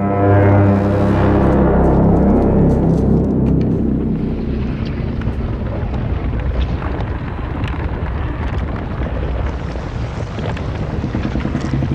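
A deep horn blows in the God of War video game. It opens with a loud, sustained, booming low blast that slowly fades into a rumbling, windy wash.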